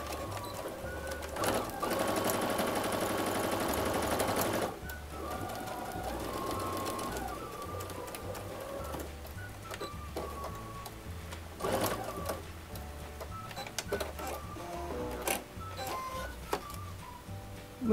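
A domestic sewing machine stitches fabric with a fast, close, rhythmic whirr. It runs in a steady burst at first, then continues in quieter, uneven stretches with small clicks and pauses.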